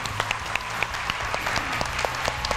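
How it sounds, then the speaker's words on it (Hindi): Audience applause on a Hindi game show for a contestant, a continuous even patter of many hands with a few sharper claps standing out, moderately loud and free of speech. "तो बहुत सारी तालियां होनी चाहिए"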